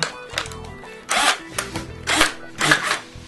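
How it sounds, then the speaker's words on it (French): A drill bores through a Deus XP telescopic metal detector shaft in bursts, three or four loud whirring pulls separated by short pauses, close up and without talk. "Allez, on va passer tout de suite au perçage."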